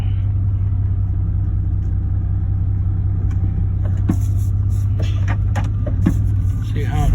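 A 1991 Chevy K1500 pickup truck drives on pavement, its engine giving a steady, heavy low rumble throughout, with scattered clicks and rattles from the cab toward the end.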